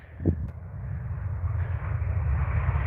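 A Ryanair airliner roars steadily near Manchester Airport, a broad low engine rumble that builds slightly and holds throughout, with a brief thump near the start.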